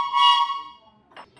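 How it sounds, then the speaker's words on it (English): Acme two-tone whistle of the kind hotel doormen use to hail taxis in big cities, giving one loud, sustained shrill blast that fades out, followed by a brief softer sound. "So we're going to start with our two-tone whistle."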